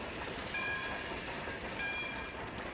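A train rumbles steadily with a continuous rolling clatter, and faint tonal squeals rise briefly over the noise.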